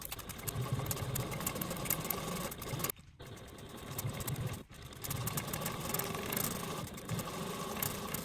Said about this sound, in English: take to our machine, and tap stitch at a 1/8 seam allowance from both long edges